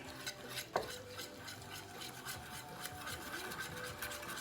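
A spoon stirs a sauce with fresh grated ginger in a container, giving soft scraping and rubbing strokes with a light clink near the start, quiet and close.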